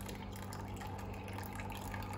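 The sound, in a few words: rinsing boiled pasta with cold water in the sink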